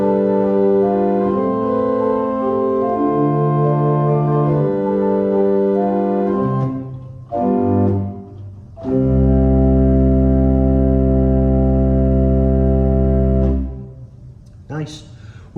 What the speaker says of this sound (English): the first stop on the grate is an 8-foot open diapason, which sounds like this